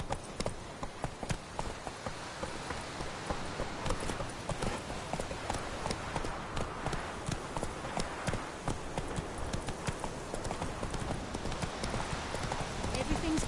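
Horse galloping in The Witcher 3, with steady rapid hoofbeats driving continuously throughout, close and loud, with scattered game sounds and a voice talking over the gallop.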